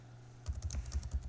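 Quick burst of typing on a computer keyboard during an Ubuntu terminal session, about a second of close, crisp clacking keystrokes in uneven rhythm over a low hum, with no talking.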